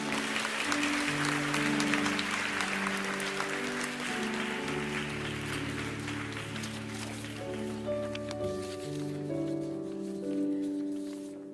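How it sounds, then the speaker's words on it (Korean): A church youth gathering gives sustained audience applause to welcome guests, steady clapping heard over sustained background music that carries on throughout. "큰 박수로 모시겠습니다."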